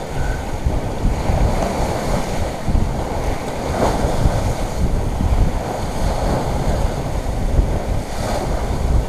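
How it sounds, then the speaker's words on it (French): Steady wind and breaking waves at sea aboard a sailboat on a passage from Palermo to Porto-Vecchio, a loud continuous rushing with churning water throughout, no voices. "On est content, on a du vent."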